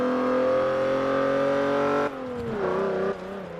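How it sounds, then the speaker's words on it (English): A race car in Forza 7 squeals its tyres while the engine drones loudly, with a sustained tonal whine that drops sharply as revs change partway through. "listen to that squealing of the tyres"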